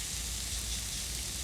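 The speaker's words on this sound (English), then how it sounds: "You can just sort of see and hear it sizzling away, and that's what you want." Steady, even sizzling hiss of grated garlic frying in a pan, constant and moderately loud with no talking.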